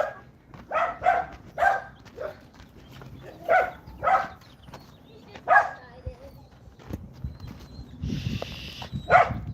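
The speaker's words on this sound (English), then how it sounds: "my dog is wanting to play. He's going nuts." An excited dog barks repeatedly in a yard, a series of sharp, moderately close barks in uneven bursts, followed by a short rustling noise near the end.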